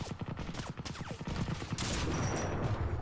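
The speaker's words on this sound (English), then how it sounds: "Did I just get shot at by a sniper?" Rapid bursts of gunfire in the video game Crysis, a fast string of shots in the first half giving way to a louder, sustained blast of noise, with no voices.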